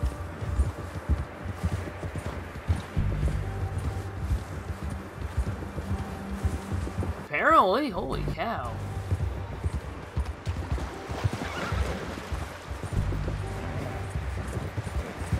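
A horse in Red Dead Redemption 2 clip-clops along at a steady rhythmic gait, its hoofbeats continuing throughout, while a person briefly exclaims midway.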